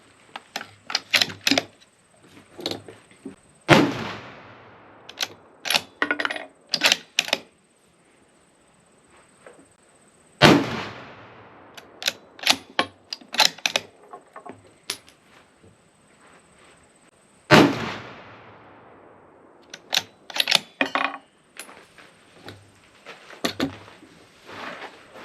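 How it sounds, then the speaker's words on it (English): Three loud, sharp 6.5 Creedmoor rifle shots from a light Bergara Carbon Crest, spaced about seven seconds apart, each ringing out with a decaying echo, with clusters of mechanical clicks and handling noises in between. "Let's get some rounds down range."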